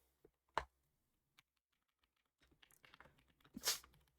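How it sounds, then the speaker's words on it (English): Computer keyboard or mouse clicks, a few sparse, crisp clicks at close range in a quiet room, followed by a brief flurry of rustling and a louder burst near the end. "That's me clicking."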